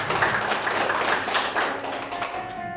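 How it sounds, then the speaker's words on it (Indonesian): A church congregation claps hands together in a dense burst of overlapping claps lasting a few seconds, close and lively, with no speech. "Coba tepuk tangan Tuhan"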